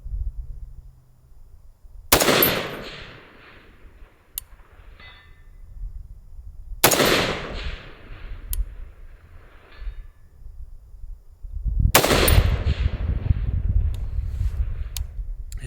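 Three loud, sharp unsuppressed shots from a CheyTac CT10 rifle fired outdoors, spaced about five seconds apart, each leaving a long rumbling echo that rolls across the open range.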